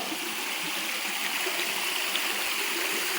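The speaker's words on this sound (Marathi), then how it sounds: "हा धबधबा" Steady rushing water, a continuous broadband roar of falling water, even and unbroken throughout with no voices.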